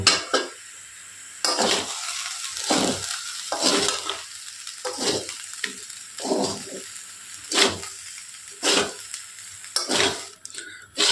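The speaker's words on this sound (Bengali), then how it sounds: "এর মধ্যে আমরা একটু গোল মরিচ দিয়ে দেব পরিমাণ মতো, দিয়ে আবার নাড়াচাড়া করে ভালো করে মিক্সড করে নেব" A utensil stirs and scrapes fried rice seasoned with black pepper in a hot pan, in irregular bursts of scraping and clinks over a low sizzle.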